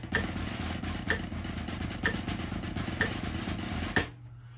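A snare drum plays a steady, continuous buzz roll from an all-state snare etude, with a light accent on each beat for about four seconds before it stops cleanly.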